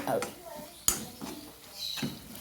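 A metal pot lid is lifted off cooking mushrooms with one sharp clank, followed by softer scraping and pan sounds, close and moderate, while a person talks throughout.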